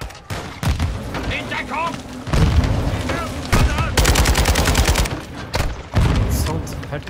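Call of Duty Modern Warfare 2 campaign battle: loud rifle and machine-gun bursts crack in rapid clusters, mixed with game voices shouting and someone talking over the action.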